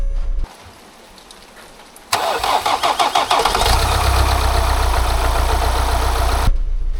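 A Ford Transit van engine cranks briefly after a silent gap, then catches with a sputtering rhythm and settles into a loud, rough, steady idle close by, ending abruptly.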